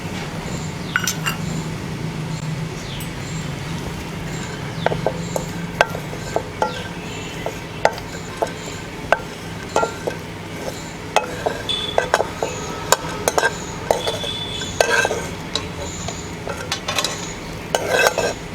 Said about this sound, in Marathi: आता खोबरं भाजते।